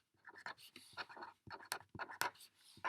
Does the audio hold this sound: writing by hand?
yes